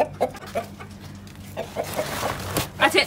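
A rooster and hens at a home garden coop cluck in short, repeated bursts close by, with several overlapping calls and a louder cluster near the end, over faint background sounds.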